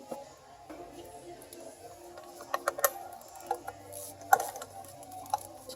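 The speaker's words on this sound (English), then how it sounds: "We'll turn it down and torque it down to about 15 foot-pounds per instructions." Close, faint clicking of a ratchet turning a spark plug on a 2009 Toyota Corolla 1.6L engine, a series of irregular sharp ticks over a quiet background.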